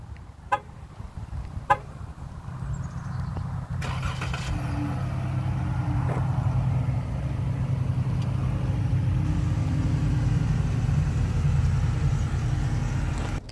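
A 2017 Dodge Charger SXT gives two short beeps, then its engine cranks, catches and settles into a steady, moderately loud idle that carries through to the end.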